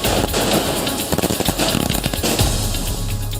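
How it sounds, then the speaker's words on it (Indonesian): Fireworks set off at night by a crowd celebrating in Pati, a rapid crackling volley of pops and bursts, loud and close, tapering into a low rumble. "ini rasa syukur kita menyalakan kembang api malam ini ya."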